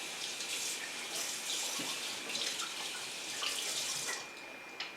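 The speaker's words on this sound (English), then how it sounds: "I'm going to wash this part that came in contact with the coffee grounds." A steady stream of water from a kitchen tap splashes over an Aeropress part as it is rinsed of coffee grounds, a continuous hissing wash at moderate level with small shifts in the spatter.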